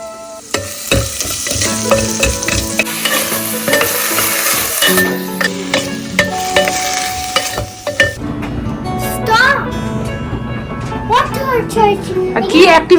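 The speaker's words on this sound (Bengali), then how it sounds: "এই যে সবজিগুলো কুচি কুচি করে কেটে নিয়েছি, এবার তুলে দেবো।" Chopped vegetables frying in a pan, a sizzle with clattering of utensils against the pan, heard under a child's and an adult's chatter and some background tones throughout.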